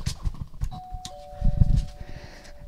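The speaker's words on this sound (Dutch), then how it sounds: "Heeft hij hier een bel, jongens? Waar is de bel? Daar is de bel." A two-tone doorbell chime rings once at a house, its second note sustaining, amid footsteps and rustling nearby.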